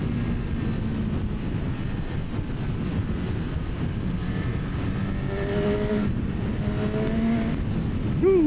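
Engine drone of a 2025 Honda CB1000 SP Hornet motorcycle on the move, a steady loud roar with rising and falling revs toward the end as the rider works through the gears, with no talk.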